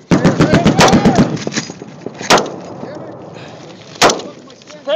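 Sporadic combat gunfire and rocket fire: a rapid burst of sharp shots at the start, then two isolated loud reports a couple of seconds apart, over a rumbling background with muffled voices.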